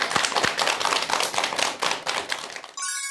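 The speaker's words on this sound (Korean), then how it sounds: "큰 박수 부탁드립니다" Brisk applause from a lecture audience, a dense patter of many hands clapping close by before cutting off abruptly near the end.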